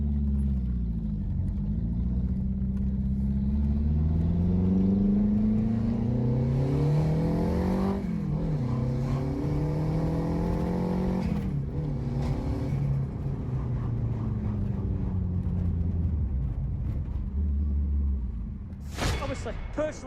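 A Renault 5 GT Turbo engine, a modified hot hatch, idles with a steady rumble, then revs up and falls back a couple of times, loud and close. A sharp click sounds near the end.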